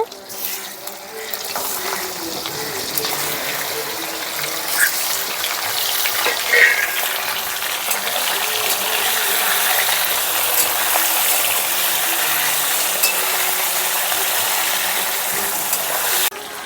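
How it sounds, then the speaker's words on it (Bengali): A catla fish head rubbed with salt and turmeric is dropped into hot oil and sizzles with a steady, loud, rushing hiss that builds and holds for a long stretch. "কাতর মাছের মাথাটা আমি লবণ হলুদ দিয়ে মেখে রেখে দিয়েছিলাম এখন দিয়ে দিচ্ছি তেলের মধ্যে"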